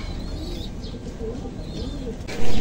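Pigeons coo softly in a loft after feeding, low murmuring calls with light chirps, then a short burst of wing flapping at the end.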